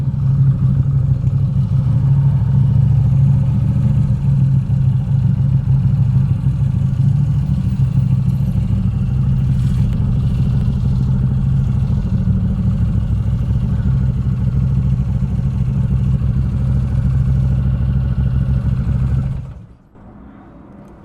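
The engine of a brand-new Norton Commando motorcycle runs at a steady, loud, throbbing idle for about nineteen seconds, then cuts off abruptly, leaving faint background hiss.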